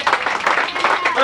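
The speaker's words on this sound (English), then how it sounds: "How about a round of applause for that?" A round of applause rises at an outdoor awards barbecue picnic for an eight-year-old White Sox team, a busy patter of clapping mixed with chattering voices throughout.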